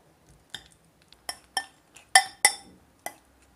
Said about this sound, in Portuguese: o primeiro passo é então começar a esmagar as bananas e eu faço assim com um garfinho